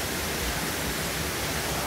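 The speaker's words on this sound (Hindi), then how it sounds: "बारिश हो रही है, बैठे हैं झरने के किनारे, वाटरफॉल के किनारे बैठे हैं" Steady broadband rush of a waterfall with monsoon rain falling in Coorg, a dense, continuous roar close by with no breaks and no voices.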